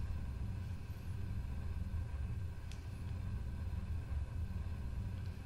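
SSTO spaceplane engines at full throttle in Kerbal Space Program, a steady, heavy low rumble droning evenly throughout with no voices.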